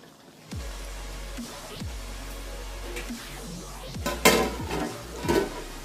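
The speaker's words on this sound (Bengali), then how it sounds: "আমি এবার একটু ঢাকা দিয়ে দেবো, কারণ অনেকটা জল বেরিয়েছে" A lid goes onto a pan of rui fish curry with potato and brinjal, bringing a few clattering metal knocks over a steady low simmering sizzle, with the louder clanks coming near the end.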